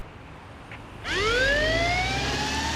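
An ambulance siren starts up abruptly and wails loud and near with a rising, sustained tone over low background rumble.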